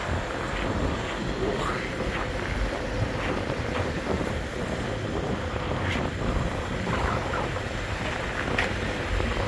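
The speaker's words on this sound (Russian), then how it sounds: "И ветер сильный." Strong winter wind in Chicago on a frigid day, a continuous loud roaring rush buffeting the microphone with constant low rumble and no break throughout.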